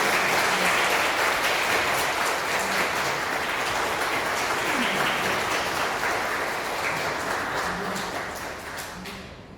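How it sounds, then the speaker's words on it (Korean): Wedding guests applaud after the groom's song, a dense, steady clapping that fills the room for several seconds and slowly thins toward the end, with no one speaking. "정말 감동적인 노래를 부른 신랑에게 다시 한 번 큰 박수 부탁드리겠습니다"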